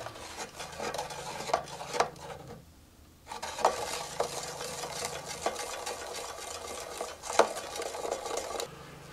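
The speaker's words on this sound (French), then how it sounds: "on mélange pendant au moins 10 minutes" Giant soap bubble liquid being stirred by hand in a container, a steady scraping, swishing rhythm with light clinks, briefly pausing before resuming, close and moderately loud with no talking.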